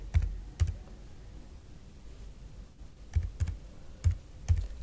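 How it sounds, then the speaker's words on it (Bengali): Bursts of keyboard typing, a few quick keystrokes in clusters with pauses between, close and fairly quiet, no voices. "সেই রেশন কার্ড নাম্বারটা এখানে আপনাদেরকে টাইপ করতে হবে।"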